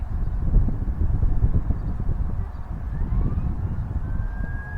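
Wind blows steadily across the microphone at a harbour while fishing at Shoreham Port, a continuous low rumbling buffet that stays loud throughout with no speech.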